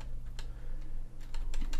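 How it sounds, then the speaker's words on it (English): Bracket keys tapped on a computer keyboard while working in Photoshop: a few quick, light clicks in small clusters against a quiet room hum. "Bracket keys to bring it down."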